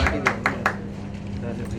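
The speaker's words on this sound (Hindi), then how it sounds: "आवाज के तालियां हो जाए यार" A few sharp hand claps land in quick succession at a song launch event, close and brief beneath steady talking.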